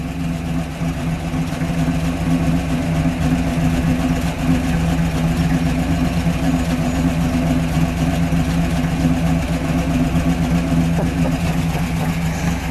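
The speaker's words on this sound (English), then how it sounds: "Let's let it idle. Yeah, let me listen to it idle." Steady, loud idle of a fuel-injected 1959 Chevrolet Impala convertible engine, an even low rumble with no revving, heard close up for the whole stretch.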